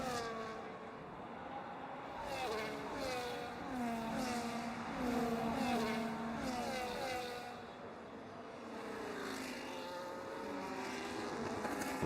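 F1.5 open-wheel race cars battle at the Spanish Grand Prix, their engines droning and sweeping in pitch as they pass and overlap, a steady, fairly loud mechanical wail with no voices over it.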